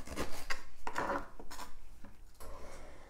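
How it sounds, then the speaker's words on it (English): Fresh ginger root being peeled and trimmed with a knife in a kitchen, giving a series of close scraping and cutting strokes with brief taps in between, with no speech. "cut off any bad parts, and just start peeling it. Cut that part off."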